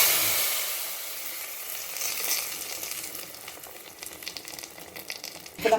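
Small amaranth greens tipped into a hot tempering of dried red chillies and curry leaves for a moong dal kootu, setting off a loud, close frying sizzle that slowly settles into steady hissing with stirring scrapes, no speech.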